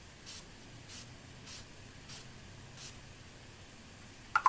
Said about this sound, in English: So to make my makeup last all night long at prom, I'd spray it with some sort of setting spray.